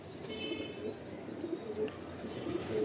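A green male loft pigeon coos in low, soft, repeated throaty notes, fairly close, over a steady background hum with a few faint higher chirps.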